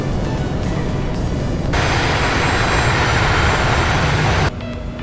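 An Embraer ERJ175 lands in the Prepar3D flight simulator, a loud steady roar of jet engines and rushing air that rises abruptly partway through, holds, then drops back at the end.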